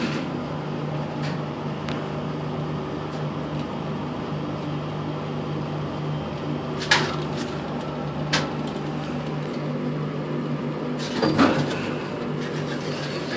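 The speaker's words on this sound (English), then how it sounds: "Hear the relays." Relays in a Dover traction elevator at Valparaiso High School clicking a few times, sharp and fairly close, over a steady machine hum with faint movement sounds.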